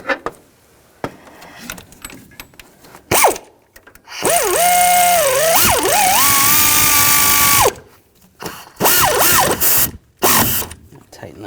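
Tightening a bolt and nut on the intermediate steering shaft of a 2014-2018 GMC Sierra 5.3L V8 during an engine mount job: a long whirring power-tool run, then quick clicking ratchet strokes and metallic clinks, close up.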